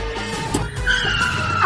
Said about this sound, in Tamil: ஷாமோட வண்டி வருது.